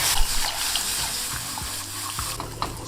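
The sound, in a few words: warm milk being poured slowly into the lasagna sauce mixture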